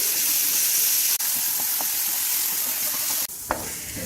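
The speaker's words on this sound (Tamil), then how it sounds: "நான் வந்து இதில் வதக்கேன், அப்போ தான் தனியாக பிரண்டை வந்து நல்லா வதங்கும்." Pirandai (adamant creeper) sautéing in a pan for a home-made chutney, a steady loud sizzle and hiss throughout, broken by a few soft knocks and stirring scrapes, with no talking.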